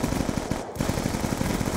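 Sustained rapid automatic gunfire in Black Ops 2 multiplayer, a loud continuous burst of close-range shots with only a brief gap, no voices over it.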